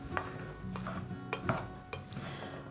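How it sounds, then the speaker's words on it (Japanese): Cooked rice being folded with a sprinkle of salt for plain salt onigiri, soft scraping and a few light taps of a paddle against the pot, quiet and close with no talk. "振り入れたお塩がよく混ざるようにさっくりと混ぜていきます"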